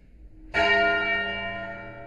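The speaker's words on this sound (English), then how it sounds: "they do what they call the devil's knell, which is ringing the bell once for every year of the Christian era" A large church bell tolls for the devil's knell, a single loud strike from near silence with a long ringing hum that slowly decays, alone without voices.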